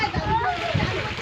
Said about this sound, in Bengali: ডুব দিবে এইভাবে